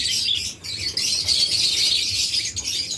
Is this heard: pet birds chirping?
yes